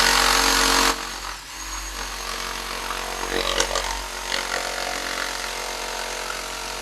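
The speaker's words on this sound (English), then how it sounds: "I'm going to use the jigsaw mode. Got a wood blade on there." A Worx variable-speed jigsaw fitted with a wood blade cuts through wood, a loud buzzing whine for about a second, then a softer, rougher sawing rasp that continues steadily.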